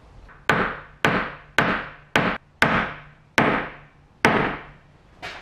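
A hammer drives nails into a small wooden picket-fence planter, sounding as seven sharp, close, evenly spaced blows with ringing decays and a softer tap at the end.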